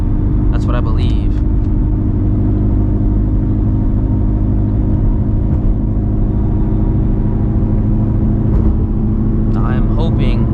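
Loud, constant engine roar from inside an 800hp Shelby GT350 Mustang on the street, a deep droning rumble filling the cabin with a brief voice over it.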